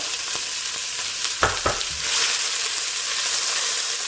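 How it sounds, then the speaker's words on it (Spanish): Onion fries in hot achiote oil in a pot, giving a steady close sizzle; a couple of sharp knocks and stirring sounds stand out midway before the frying hiss swells and holds. "una vez que ya el achote ha calentado, entonces sofreímos la cebolla"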